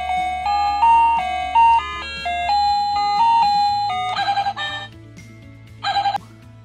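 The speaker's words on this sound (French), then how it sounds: "il y a pas mal de sonneries, c'est plutôt sympa." Ringtones from a DioBell BO-2+ wireless doorbell play one after another: a stepped melodic tune, then rapid bursts of trilling electronic rings, close and bright with no voices.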